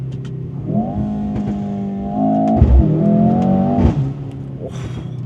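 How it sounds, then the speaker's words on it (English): A 2025 Mercedes-AMG GLC 63S E Performance with an inline-four and aggressive exhaust revs hard up close, its engine note rising and holding, with a couple of sharp cracks in the middle. "this exhaust being very aggressive, and you heard the pops and bangs just now"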